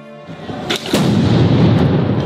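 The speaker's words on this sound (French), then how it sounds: "Une grenade lacrymogène qui contient 26 grammes de TNT." A GLI-F4 tear gas grenade containing 26 grams of TNT detonating during a Gilets jaunes street protest, a heavy boom that leaves a long rumbling roar and crowd noise.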